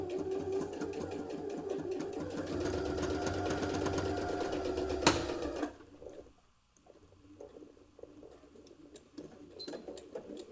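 A sewing machine runs a steady stitching seam on a zipper bow clutch for about five seconds, then stops, leaving faint handling noises.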